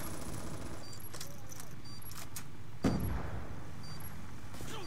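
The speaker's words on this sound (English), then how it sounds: "just blind firing through smoke, just hopefully getting someone" Gunfire in Call of Duty on the Nuketown map in Demolition mode, blind-fired through smoke as a single short burst mid-clip over steady game ambience, moderately loud and close.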